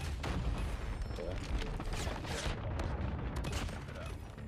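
A sentry gun fires in the Call of Duty Mobile video game, dense rapid gunfire and booms filling the scene with barely a pause.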